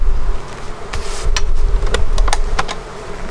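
Steady insect buzzing of honeybees at an open hive fills the air close by, a dense drone with scattered sharp clicks and knocks over it.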